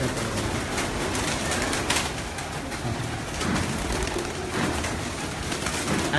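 Pigeons coo on a rooftop, with several overlapping soft, throaty calls repeating close by over a steady background of outdoor noise.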